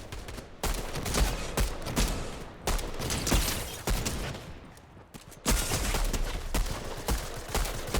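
Video game shooter gunfire: dense, loud bursts of rapid automatic shots with sharp cracks and brief pauses, continuing through the whole stretch without talk.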